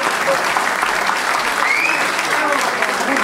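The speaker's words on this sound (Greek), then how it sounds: "ένα χειροκρότημα για τον Βαγγέλαρο, που είναι εδώ απόψε" Applause from a club audience at a live concert, steady dense clapping filling the room throughout, with faint voices and a brief whoop mixed in.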